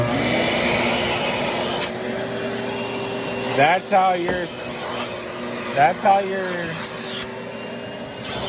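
A clogged shop vacuum drones steadily throughout, with a few brief sucking surges and a short remark spoken over the motor.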